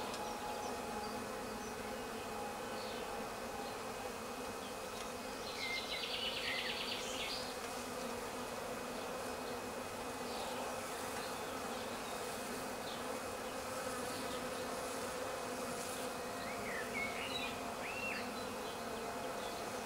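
A swarm of honeybees settled on a shrub hums in a dense, continuous buzz, with individual bees zipping closer now and then over the steady drone outdoors.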